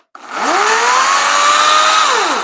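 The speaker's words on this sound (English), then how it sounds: "Oh wait, electric chainsaw." An Ego battery-powered electric chainsaw spins up quickly and runs at a loud, steady high-pitched whine for about two seconds before starting to wind down, close to the listener.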